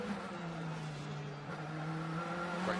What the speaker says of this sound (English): BMW is pushed around this Lausitzring circuit by the driver who has had a phenomenal season